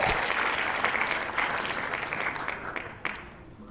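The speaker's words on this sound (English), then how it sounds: "we got applause on the way out this time" Applause sound effect played on a podcast break, a dense wash of crowd clapping that gradually fades over a few seconds.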